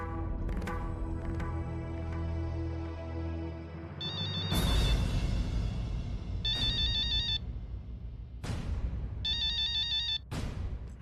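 A phone ringtone plays loudly over a musical background, its bright electronic ring repeating in bursts every couple of seconds.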